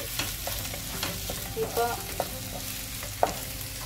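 Garlic and green chilli frying in a pan for palak paneer, a steady close sizzle with occasional stirring scrapes and clinks, one short spoken word.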